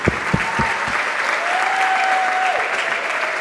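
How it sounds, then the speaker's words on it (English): A theatre audience at a middle school play gives a steady, full round of applause for the staff, many hands clapping at once without speech. "Let's have one more round of applause for our staff."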